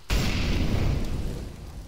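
Incendiary grenade going off in a first-person shooter game, a sudden deep boom followed by a sustained roaring, crackling burn that slowly fades over a couple of seconds.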